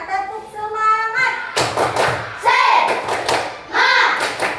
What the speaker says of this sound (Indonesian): Semuanya tepuk semangat.